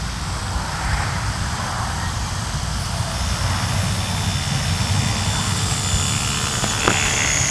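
A Flyzone Fokker D.VII micro RC World War I plane flies with a steady, buzzing electric motor and propeller whine, fairly loud and continuous, with no talk over it.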